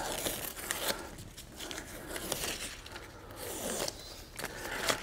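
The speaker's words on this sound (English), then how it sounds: "Pull the tape off." Tape is pulled off a roto casting mold case in several quick, crackling rips that come close and fairly loud against a quiet room, with no talking.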